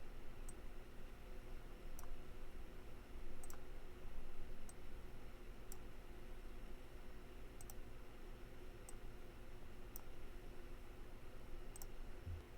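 Sparse, sharp mouse clicks spaced a second or two apart, faint against a steady low background hum, with no talking.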